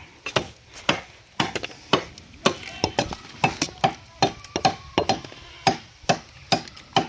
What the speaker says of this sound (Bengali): তো আমি এখন এই বাঁশটাই কাটবো।